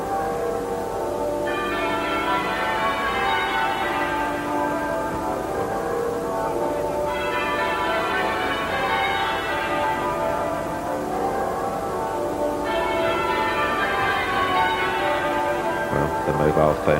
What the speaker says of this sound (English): the half-muffled bells still ringing